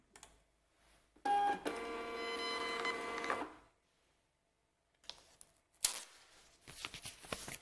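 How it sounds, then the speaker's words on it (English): A desktop printer runs out a DHL shipping label in a steady mechanical whir of about two seconds. Quiet clicks and handling noises follow after a pause. "the label is printed directly through our printer"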